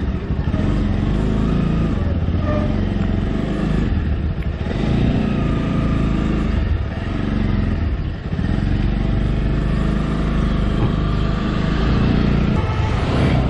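Motorcycle ride on the Kathmandu–Pokhara highway: a steady, loud engine drone with shifting revs and road rumble runs continuously close up, with wind noise throughout and no talking.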